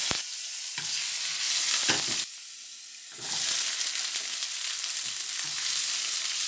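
Vegetables with a teaspoon of garlic stir-fried in a wok for Cantonese chow mein with scallops, giving a loud continuous sizzle with scraping stirs, briefly dropping to a softer hiss midway before the busy frying resumes.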